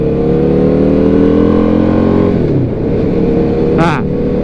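Husqvarna Nuda 900R motorcycle engine revs hard and then drops, a loud close howl rising in pitch before falling off, with a brief sharp burst near the end.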